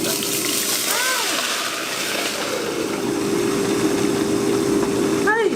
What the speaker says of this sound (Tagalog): Ang lakas ng talsik niya talaga